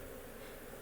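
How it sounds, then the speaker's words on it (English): Mixed-breed Italian honey bees on a farm give off a brief, dense, continuous buzz that holds steady throughout. "These bees are a mixed breed. They're Italian,"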